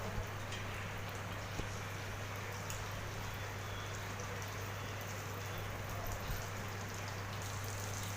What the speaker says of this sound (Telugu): మెల్లమెల్లగా ఇవి ఫ్రై అవుతున్నాయి